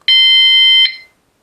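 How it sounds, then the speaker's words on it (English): An Outerdo bicycle rear light's alarm sounds one loud, steady high-pitched electronic beep lasting under a second, close to the microphone, then cuts off into silence. "and that sets the alarm going"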